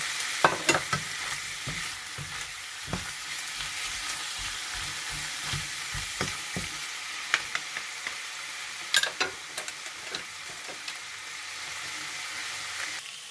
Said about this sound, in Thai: พอหมูสุกแล้วก็ใส่กุ้งลงไปผัดต่อค่ะ